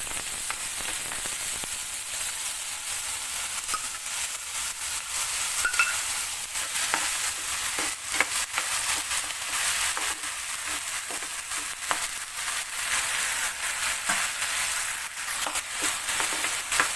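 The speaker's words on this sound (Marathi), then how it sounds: "आणि आपण आता ही भिजत घातलेली डाळ थोडंसं तेलामध्ये परतून घेणार आहोत" Soaked lentils sautéed in hot oil with cumin seeds, a steady broad sizzle with scraping stir strokes running throughout, close and continuous with no talking.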